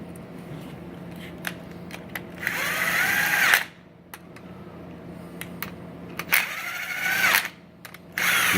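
A power tool drives spring bolts on a 26c assembly, two whirring bursts that rise in pitch as each bolt tightens, with small clicks and taps of handling before and between them.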